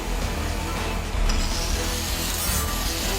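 A grinder smoothing the rough, chainsaw-cut face of a wooden surface, giving a loud, continuous abrasive rubbing and whirring that holds steady throughout with a slight swell partway through.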